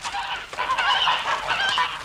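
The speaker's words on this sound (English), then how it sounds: "the geese, which was hissing and huddling in the corner of the yard" Geese honk loudly and close in a dense overlapping chorus, with harsh nasal calls running continuously and a hissing edge, no talking heard.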